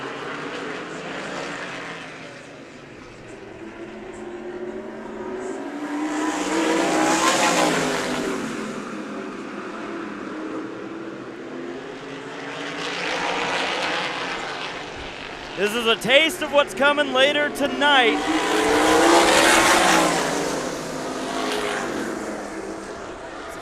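Sprint cars race at Meridian Speedway, engines swelling loud as the pack passes close, then fading and rising again in waves, with a burst of rapid revving near the end, all under a commentator talking throughout.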